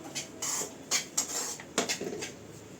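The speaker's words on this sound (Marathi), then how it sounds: "रवा भाजून घेते" Semolina (rava) dry-roasting in a pan for upma, heard as soft scraping and light scratchy stirring strokes with a few sharper clicks of a spoon against the pan, close and fairly quiet, with no voices.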